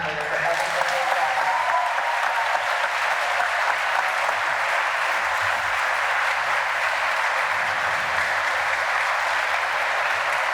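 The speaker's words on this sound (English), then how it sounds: "I wanted to make sure that we all give a round of applause to Ms. Snyder and to Mr. Huntsberger" An audience at a high school senior recognition night gives sustained applause for the class sponsors, a dense, even wash of clapping from many hands lasting throughout.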